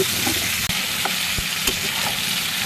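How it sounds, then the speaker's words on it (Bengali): Fish and tomato frying together in a pan, a steady close sizzle with faint stirring scrapes and a few soft clicks. "তরকারির সঙ্গে একটু মাছটাও হালকা করে ভেজে নেব"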